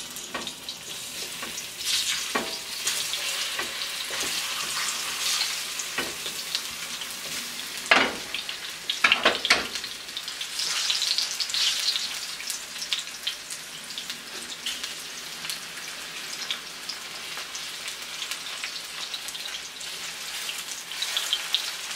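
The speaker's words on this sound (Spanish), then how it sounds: "Le vamos a agregar algo de aceite para que se nos frían bien bonitos" Plantains sizzle steadily in hot oil in a pan, a dense crackling fry with occasional louder bursts and spatters, close and continuous with no talking.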